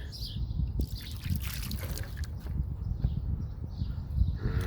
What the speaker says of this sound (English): Got water dripping down through the door.